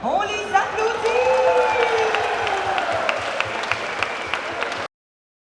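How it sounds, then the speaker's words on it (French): A crowd at an outdoor show in Berthierville applauds the singers after a song. The clapping is sustained and mixed with cheering, and lingering voices and musical tones sit over it before it cuts off abruptly. "On les applaudit."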